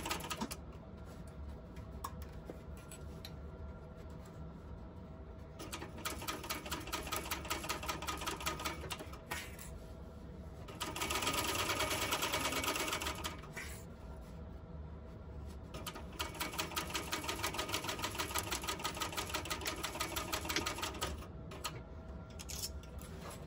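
A sewing machine stitching a bucket bag seam with joining and back stitches, a rapid mechanical needle chatter running in several bursts separated by short pauses, fairly close and steady.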